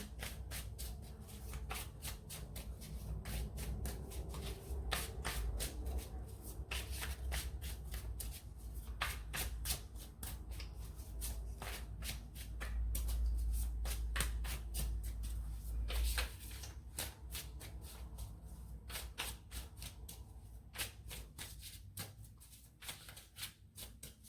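Tarot cards are shuffled by hand for a long stretch in steady rapid riffles and soft slaps. A low hum stays underneath throughout, and no one speaks.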